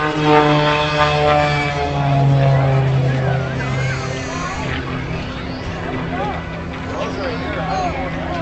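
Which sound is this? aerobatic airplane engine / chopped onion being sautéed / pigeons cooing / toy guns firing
aerobatic airplane engine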